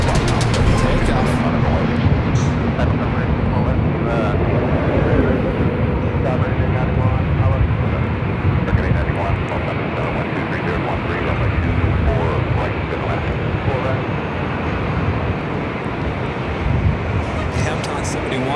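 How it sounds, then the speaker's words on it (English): An Emirates Airbus A380 takes off from Los Angeles airport, a loud, steady jet roar that fills the whole stretch and holds without a break as the aircraft climbs away. "Emirates A380 heading back to Dubai, the A380 Super. Should be heading up here from the north side. Takeoff."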